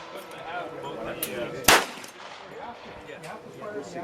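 A single sharp, loud Glock pistol gunshot at the Springfield shooting range cracks out midway through a quiet stretch, with faint range ambience around it.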